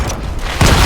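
Shotgun fire in Fortnite, a loud dense booming blast with heavy low rumble that swells sharply about two-thirds of the way through a continuous roar of game noise.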